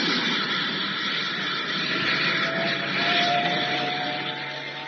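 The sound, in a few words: spacecraft takeoff sound effect in old-time sci-fi radio drama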